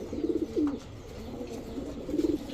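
Giribaz high-flyer pigeons give soft, close, throaty coos, with a short burst at the start and another near the end separated by quieter murmuring.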